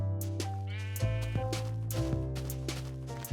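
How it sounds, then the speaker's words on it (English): Sheep in the game Minecraft Beta 1.1_02 bleating several times in succession, close and clear, with wavering nasal cries separated by brief gaps. "What function did sheep serve in this version?"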